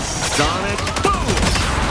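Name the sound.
Hawkeye's Sonic Boom ability in the video game Marvel Rivals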